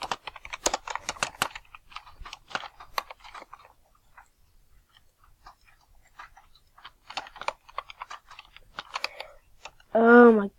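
Computer keyboard typing in bursts of fast, close clicks and clatter, pausing briefly midway, with a short voiced sound at the very end.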